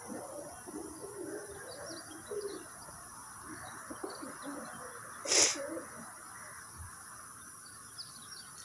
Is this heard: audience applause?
no